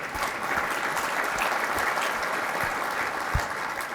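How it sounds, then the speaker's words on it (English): Applause from a conference keynote audience, a steady wash of many hands clapping at moderate distance, even and sustained throughout with no voices over it. "Yeah, I think that deserves a round of applause too."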